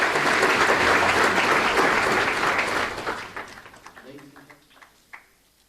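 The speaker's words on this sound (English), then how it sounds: "Big round of applause, ladies and gentlemen." Audience applause at a 40th birthday celebration, a full round of clapping that holds steady for about three seconds, then thins into scattered claps as a voice begins speaking.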